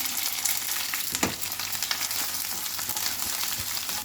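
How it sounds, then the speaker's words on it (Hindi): Okra frying in smoking-hot mustard oil, a steady dense sizzle with a soft crackle running throughout and a brief louder pop near the middle; no voices. "भिंडी को हम 5 से 6 मिनट के लिए फ्राई करेंगे ताकि भिंडी हमारा अच्छे से फ्राई हो जाए"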